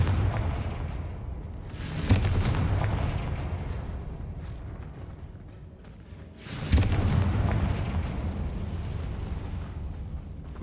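Two heavy blasting-curse explosions in the Hogwarts Legacy video game, each a sudden loud boom followed by a long rumbling decay, several seconds apart, with no talking.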